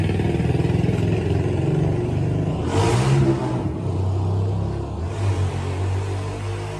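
A 2020 New Holland 3630 Special Edition turbo tractor idles with a steady rumble up close, then revs hard in a short burst before settling back to idle, with no talk over it.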